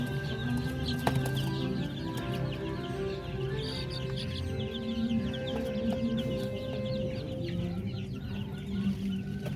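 A flock of chickens with newly hatched chicks clucks and cheeps continuously, close and busy, with overlapping calls and no talking.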